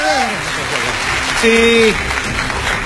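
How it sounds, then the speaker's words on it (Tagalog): A live audience at a 2016 Philippine presidential candidates' debate bursts into sustained applause and cheering, with a voice speaking briefly over the crowd noise. "Palakpak kung gusto nyo."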